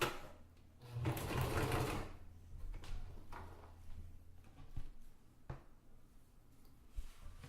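A sewing machine whirs in a short burst of stitching through Dyneema fabric for an ultralight zipper pouch, followed by quieter clicks and light handling noises, with no talking.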